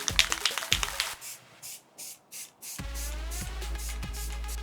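Black spray paint hisses from an aerosol can onto sign lettering in short bursts of a second or less, separated by pauses, with a steady background hum in between.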